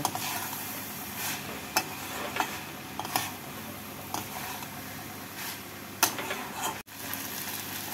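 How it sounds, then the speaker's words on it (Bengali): Banana stem and prawn curry thickened with rice flour is stirred in a pan, with a soft bubbling hiss under scattered scrapes and taps of the spoon. "এবার ভালো করে নাড়াচাড়া করে নেব।"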